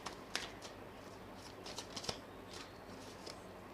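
A deck of tarot cards is shuffled close by in a soft, continuous riffling patter with a few sharper flicks, steady and without any voice.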